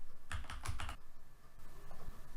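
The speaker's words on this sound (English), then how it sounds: "begin typing your last name in the search box and select from the list that appears" A computer keyboard is tapped in a quick burst of keystrokes as a last name is typed, followed by a pause and a few more scattered key presses, close and clear with no talk.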